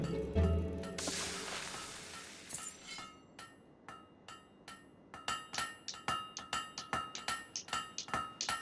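A blacksmith's hammer rings on an anvil in Fable III, first in a few spaced strikes and then in a quick, even run of bright metallic clangs, close and clear.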